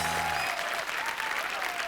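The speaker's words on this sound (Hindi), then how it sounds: "यार जोरदार तालियां रवीना के लिए होनी चाहिए" A studio audience on a Hindi game show applauds for Raveena, a dense burst of clapping heard briefly right after a tonal sound cuts off.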